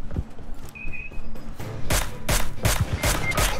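Gunfire in a shooter game during a squad fight: rapid bursts of sharp shots in an irregular rhythm, growing louder and denser toward the end, with a brief whistle-like tone early on and no clear talk.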